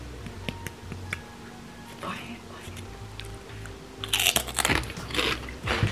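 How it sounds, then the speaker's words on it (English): Crunching on a crispy tempura seaweed snack with sesame, close loud bites and crackling that burst out in the last two seconds, after quieter mouth sounds and soft whispers. "It's tempura seaweed. So it's like crunchy seaweed."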